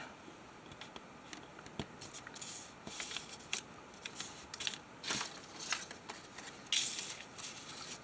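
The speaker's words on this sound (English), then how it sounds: "And I'm going to fold up the bottom a little bit." Paper is folded and creased by hand to make an envelope. Soft crinkling and rustling sit close but faint, with small crackles scattered through a quiet room and no voice.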